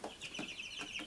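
Young heritage breed turkeys raised on a homestead cluck and chirp in a short burst of several quick, fairly faint calls, close by and with no talk.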